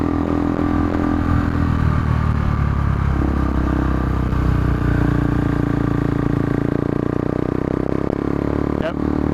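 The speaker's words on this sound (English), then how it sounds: "Yep, bike does not love being lugged." A KTM RC390 motorcycle engine labors at low revs on winding switchbacks, its deep uneven drone held loud and close under rushing wind, with a rider talking over it.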